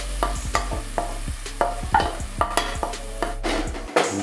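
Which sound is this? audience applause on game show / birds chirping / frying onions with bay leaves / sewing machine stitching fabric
frying onions with bay leaves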